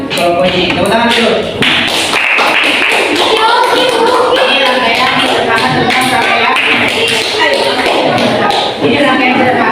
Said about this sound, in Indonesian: Kelompok ini, tepuk tangan dulu